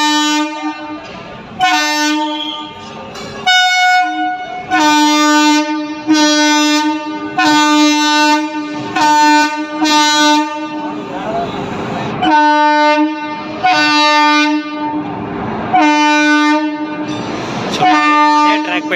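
A heavy double-engine train passes on a railway track near an underpass construction site in Anantapur, its horn blaring in a series of loud, sustained chord blasts repeated over the whole stretch, with rumbling wheels beneath.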